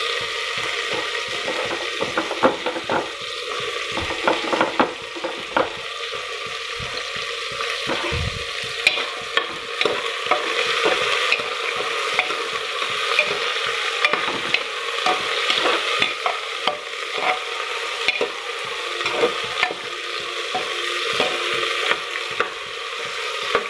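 Squash and chickpeas fry in a pan for a vegetarian chickpea and vegetable curry, a continuous soft sizzle broken by frequent scraping and clicking strokes of a spatula stirring the mixture, close and steady.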